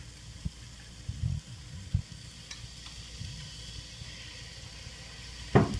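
Celery, garlic and thyme sizzle steadily in a pot as the base for a beef stew, a faint, continuous frying hiss broken by a few soft knocks and a brief louder clatter near the end.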